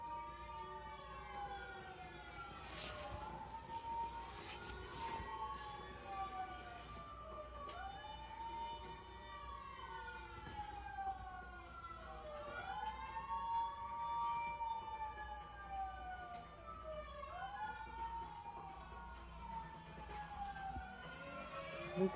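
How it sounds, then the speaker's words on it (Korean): A faint, distant ambulance siren wails up and down in repeated cycles, continuing steadily throughout. "앰뷸런스 소리가 뭔지 아냐?"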